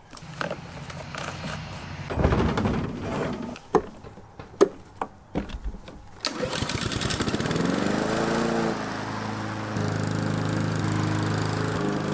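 Some scattered clattering and knocks, then a lawn mower engine starts and runs steadily with a droning hum while cutting wet grass, fairly close and loud.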